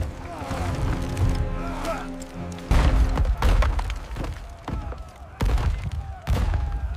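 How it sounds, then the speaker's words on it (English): Early sixteenth-century Scottish artillery, cannon fire in a battle between Scots and English: repeated heavy booms and thuds over a dense rumbling battle din, loud and near, with someone narrating over it. "Scottish artillery opened the fight."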